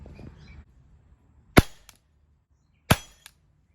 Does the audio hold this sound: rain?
no